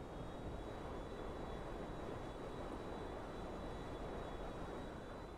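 A fixed-wing airplane engine in GTA 5 roars as a steady, loud broadband drone with no pauses, a thin constant whine riding above the rush of the engine and air.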